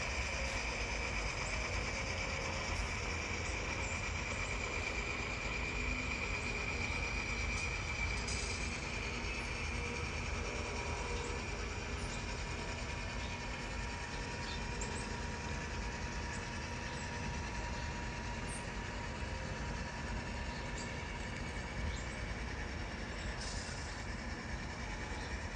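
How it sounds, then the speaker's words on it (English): A southbound Norfolk Southern freight train rolls steadily past at a farm crossing, a continuous broad rumble of wagons and wheels with faint squealing, constant in level throughout. "Hopefully you heard we've got a southbound Norfolk Southern train"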